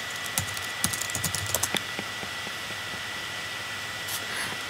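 Keystrokes on a computer keyboard while entering a search for a game on a PC, a quick cluster of close, crisp clicks in the first two seconds, then a faint hiss and a couple of soft taps near the end.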